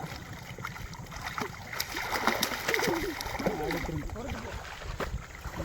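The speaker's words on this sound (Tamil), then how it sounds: "இப்போ அவன் எப்படி நீச்சல் அடிக்கிறான்னு சொல்லி பாருங்கள்" A child at swimming practice kicks and strokes through the water, making steady close splashing and sloshing, while an adult voice talks over it partway through.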